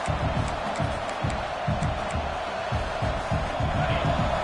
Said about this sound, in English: this big crowd doing everything possible to inspire this defense down here near the goal line